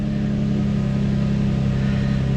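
Infiniti G35 engine idling steadily during an injector balance test, a continuous close mechanical hum with a low droning tone and no voices.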